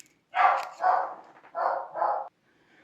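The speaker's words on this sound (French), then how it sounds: "Désolé, mon chien qui aboie" A pet dog barks indoors in four full, loud barks, two then a short pause then two more, close by with no talking over them.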